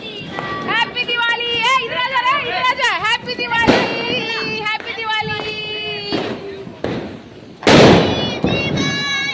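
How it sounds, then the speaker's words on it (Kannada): Lively chatter and shouting fill a Diwali celebration while loud firecracker bursts crack out now and then, the biggest blast near the end. "ಎಲ್ಲರೂ ಪಟಾಕಿ ಕಸ್ಲತ್ತಾರ ನೋಡ್ರಿ"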